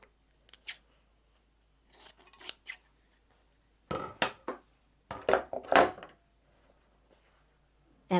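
Scissors snip through scrap fabric for a crazy quilt block, close and clear, in short irregular runs of crisp cuts separated by quiet pauses.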